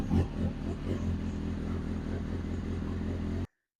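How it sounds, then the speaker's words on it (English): A motorcycle engine that has just been fixed starts and runs steadily at a loud idle for a few seconds, with a rough, throbbing low rumble, and then cuts off abruptly. "so the bike will start."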